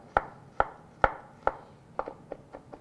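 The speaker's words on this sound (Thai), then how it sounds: "แล้วผมก็มีกระเทียมนะฮะกระเทียมเดี๋ยวก็ ซอยนิดหนึ่งครับ" A knife slices garlic on a cutting board in a steady rhythm of crisp taps, about seven or eight clear strokes that get lighter and quicker toward the end, close up with no talking.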